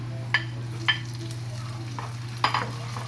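Tomato added to a frying pan with browned garlic and onions for ginisang sayote with ground beef, giving a steady close sizzle broken by a few sharp stirring scrapes, with no talking.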